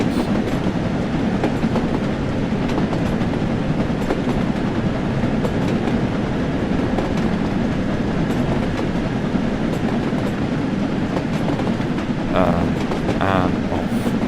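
Train running steadily along a line between Buxton and Manchester Central through the Peak Forest in Train Sim World, a continuous rumbling drone with rhythmic clickety-clack over the rails, loud and close throughout.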